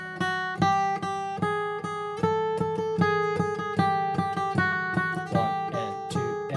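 Acoustic guitar strummed in a steady down, down, up pattern, chords ringing in a repeating loop of evenly spaced strokes, loud and close with no talking.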